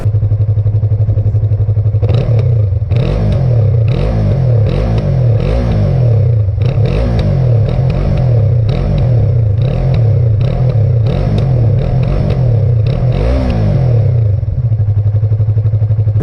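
A Yamaha MT-03 motorcycle engine runs loud and close, starting at a steady idle, then revving repeatedly through several rhythmic throttle blips before settling back to idle, with no talk.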